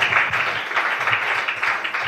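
A church congregation applauding during a sermon, a brief burst of steady clapping from many hands, fairly loud and with no talking over it.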